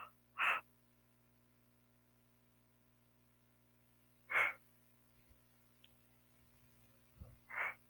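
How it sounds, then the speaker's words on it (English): Three spaced, breathy yawns from one person, each a short soft burst of airy sound with long quiet gaps between, close to the mic over a faint steady hum. "You're going to hear me yawning, but I'm not falling asleep on you."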